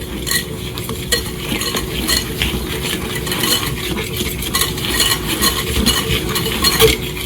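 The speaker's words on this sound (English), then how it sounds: "We're going to use the wire whisk to just mix it until it's nice and smooth." A wire whisk scrapes and clinks steadily around a bowl, beating sugar until smooth for chocolate chip bar cookies, with a continuous close rustle and light metallic ticks.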